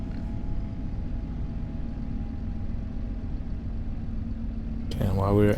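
A farm tractor engine idles steadily at close range, a low continuous rumble running unchanged for several seconds before a voice starts speaking over it near the end.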